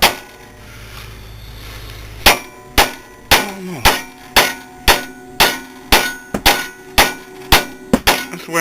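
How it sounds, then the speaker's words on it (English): A hammer strikes a Trailblazer strut assembly repeatedly: a dozen sharp, ringing metallic clangs at a steady rhythm, close and loud, each with a brief ringing decay. "that's where I need a bigger hammer."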